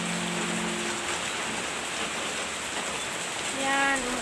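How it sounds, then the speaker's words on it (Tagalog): Steady rain hissing evenly throughout, close and moderately loud, with a brief faint tonal sound near the start and end. "umuulan na, umuulan."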